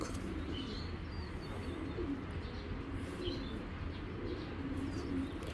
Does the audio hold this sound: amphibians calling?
no